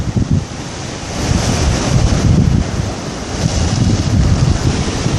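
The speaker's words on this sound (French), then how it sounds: "On va d'ailleurs avancer un peu pour voir les vagues." Ocean waves surge and break against the south jetty at a western harbour entrance on Réunion at dusk, a continuous loud roar with swells building and falling under steady wind buffeting the microphone.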